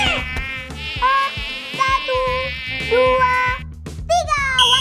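Flies buzz loudly and close in a fly-catching contest, a continuous whining drone with pitch swoops and sudden starts and stops, no talking over it.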